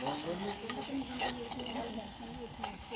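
Onion, tomato and masala powder fry in a pan with a dense, steady sizzle while a spoon stirs through the mixture in soft scraping passes.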